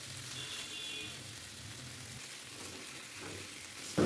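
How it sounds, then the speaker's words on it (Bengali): A marinated rohu fish head, coated in turmeric, chili and salt, frying in hot oil in a pan, giving a steady, close sizzle throughout with a brief louder clatter at the very end. "এবারে হলুদ, মরিচ, লবণ দিয়ে ম্যারিনেট করে রাখা মাছের মাথাটা তেলের উপরে ভেজে নিচ্ছি"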